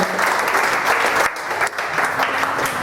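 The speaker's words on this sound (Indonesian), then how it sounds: "Tepuk tangan dulu lagi" Audience applause at a stand-up comedy show, a dense, steady clatter of many clapping hands filling the room for a few seconds, with a brief dip midway before it swells again.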